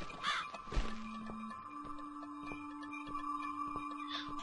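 Crow cawing in the video game The Cat Lady, a few caws near the start over a steady droning game ambience with sustained tones and faint ticking.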